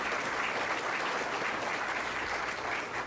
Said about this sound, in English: Your round of applause.